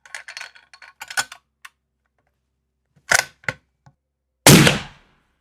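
A .375 Ruger rifle fitted with a muzzle brake fires a single loud, sharp blast with a short decaying tail near the end, after several scattered mechanical clicks of handling.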